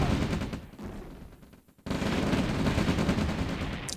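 Heavy gunfire and cannon blasts from tanks in an OpenRA Red Alert battle, loud sustained combat that drops away briefly midway before surging back dense and continuous.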